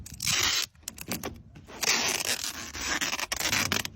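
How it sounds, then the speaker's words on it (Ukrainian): Packing tape rips off the roll in long, loud tearing strokes as a box is sealed, with a short pause between pulls and a raspy, close-up screech throughout. "Запаковую це скотчем обов'язково"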